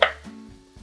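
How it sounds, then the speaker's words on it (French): A single knife chop through carrot being cut roughly into rounds on a board, one crisp close strike followed by quiet. "Et on fait pareil pour les carottes, on les coupe grossièrement en rondelles."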